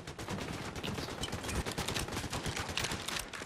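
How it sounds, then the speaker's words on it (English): Rapid, continuous gunfire in the video game Fortnite, dense overlapping shots and bursts filling the whole stretch at a steady, moderate level with no speech. "I'm just still getting shot at."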